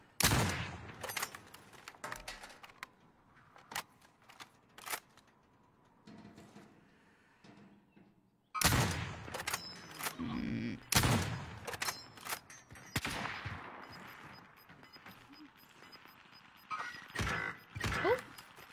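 Bursts of gunfire from a battle royale shooter video game crackle in quick, uneven volleys, some isolated shots and some rapid strings, moderately loud over quieter game ambience.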